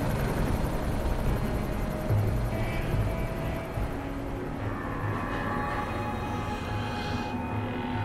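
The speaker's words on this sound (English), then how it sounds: "Another helicopter." A helicopter in the video game Black Mesa drones steadily with a dense, rumbling rotor hum that persists throughout, no voices over it.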